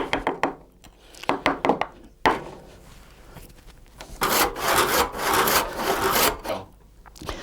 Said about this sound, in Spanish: vamos a poner aquí el taco este para que no se nos apriete el serrucho